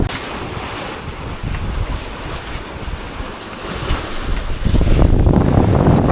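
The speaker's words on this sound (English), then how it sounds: "It's really quite windy now" Strong wind roars across the microphone with the rush of water against a sailboat moving over 9 knots off Turkey's west coast, steady and loud, gusting harder near the end.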